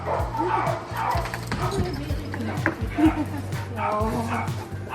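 Dogs being reunited with their veteran owner bark, yip and whimper excitedly in short repeated bursts close by, mixed with indistinct human voices.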